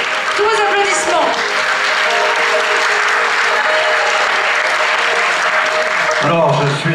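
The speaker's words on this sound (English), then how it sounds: "Tous vos applaudissements." Sustained applause from an audience at the Miss Côte d'Or beauty pageant election, dense and steady throughout with a host's voice briefly audible near the end.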